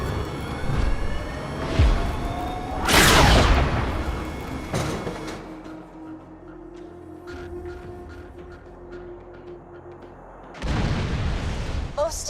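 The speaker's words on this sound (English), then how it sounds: "Please fire the cannon again." Two booming cannon shots from the video game Borderlands 2, separated by several seconds, each with a sharp blast and rumbling decay, with background hum and faint tones between.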